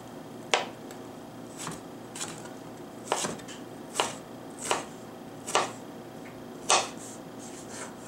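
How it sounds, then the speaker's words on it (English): A knife roughly chops ginger on a cutting board, sharp distinct thuds spaced about a second apart, close and clear over a quiet background, with no talking. "I prefer this rough chopping to grating."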